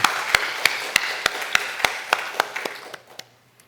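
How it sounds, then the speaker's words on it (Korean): A church congregation claps in thanks, a sparse, evenly spaced series of about a dozen sharp claps that slows and thins out toward the end. "우리 주님께 감사의 박수를 드리겠습니다."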